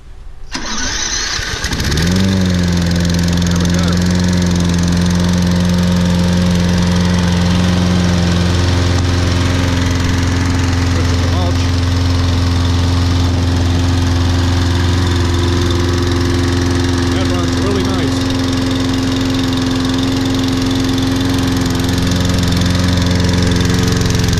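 A Toro Personal Pace Recycler 20334 lawn mower's small engine cranks and catches, then runs steadily and loudly up close with a constant droning hum, with no talk over it.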